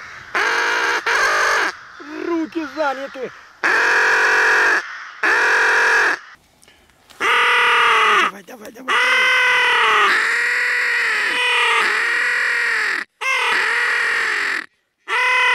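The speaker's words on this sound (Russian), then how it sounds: "Идет ворона на этот звук. Очень хорошо идет. Сколько ворон пришло" Crows caw repeatedly, drawn in during a spring drake hunt with decoy ducks on the Oka river: loud, harsh, close calls in bursts with short gaps, and someone speaks briefly among them.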